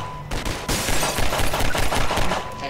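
Rapid gunfire rattles loudly in a sustained burst as enemies shoot at the player in the video game Half-Life, dense overlapping shots filling the whole stretch.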